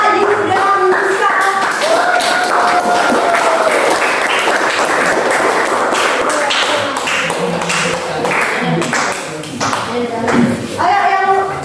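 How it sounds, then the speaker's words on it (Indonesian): A classroom audience applauds students, a loud, sustained burst of many hands clapping close by, with voices and brief tonal chatter mixed in under the clapping. "tepuk tangan untuk Aris Ayu dan Nuska"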